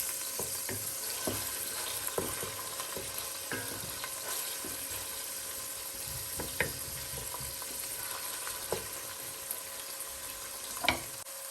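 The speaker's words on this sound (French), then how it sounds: "Il faut remuer un peu et laisser mijoter à feu doux." Beef skin with onions simmers gently in a pan, a soft, steady low sizzle with occasional sharp scraping clicks from stirring, one louder knock near the end; no voices.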